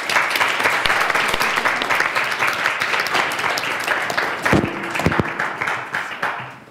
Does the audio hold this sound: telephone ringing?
no